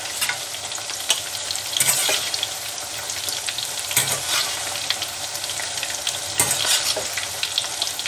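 Bhindi (okra) fries in hot oil with a steady, dense sizzle and crackle, close up and fairly loud, broken by a few sharper pops and stirring scrapes throughout.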